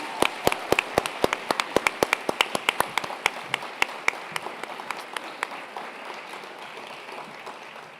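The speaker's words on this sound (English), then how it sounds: "Round of applause" Guests at a German International School graduation applaud the homeroom teachers: sharp, close individual claps ring out in a quick uneven rhythm over a crowd's softer clapping, which thins and fades toward the end.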